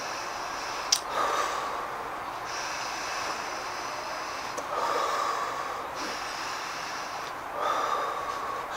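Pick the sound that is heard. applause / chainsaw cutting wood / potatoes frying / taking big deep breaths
taking big deep breaths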